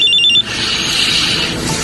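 A cellphone ringtone sounds as a radio drama sound effect, a bright rapid electronic trill that cuts off abruptly, followed by a softer, hissy ringing tone that continues at a lower level.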